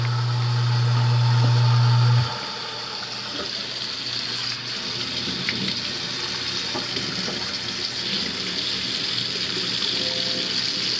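A kitchen sink food waste disposal hums loudly for about two seconds and then cuts off, leaving running water from the tap.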